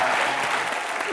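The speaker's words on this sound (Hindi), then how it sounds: "एक बार जोरदार तालियां आलिया के लिए।" A studio audience at a Colors TV comedy show applauds in a brief, dense burst of clapping, steady and moderately loud.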